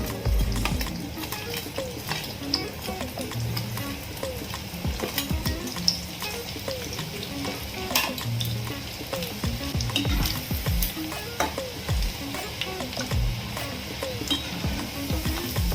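Baby corn deep fries on full flame for a double fry, a steady close sizzle and bubbling with occasional stirring clatter, continuous and alone without talk.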